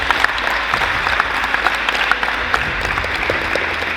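Steady, even applause from a crowd at a basketball festival hall-of-fame ceremony honouring a man who brought basketball to Australia, filling the space without any speech.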